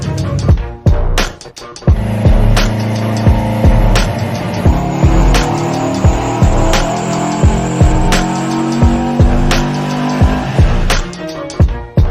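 A Subaru Forester SG on a test run, its engine droning loud and close with rising and falling revs and sharp ticking clatters, and a tire squeal near the start. Nobody speaks.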